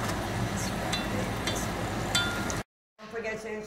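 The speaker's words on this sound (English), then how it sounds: "Frying pasteles." Chicken empanadas (pasteles) fry in a pan with a steady hissing sizzle, occasional clinks of a utensil, then a brief silent gap before the frying resumes more quietly.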